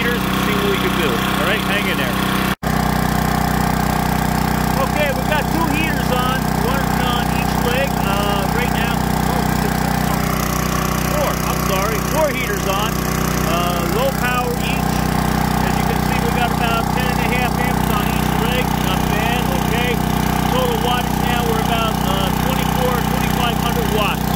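A Coleman Powermate 5000 watt generator runs steadily under load, its even engine drone continuous and fairly loud throughout, with a brief click near the start and faint voices or background sounds over the hum.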